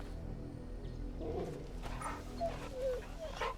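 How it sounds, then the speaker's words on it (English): Torgal, the canine companion in Final Fantasy XVI, gives soft whimpers and small yips while being petted, heard close over a low steady game ambience. "Aw, good dog."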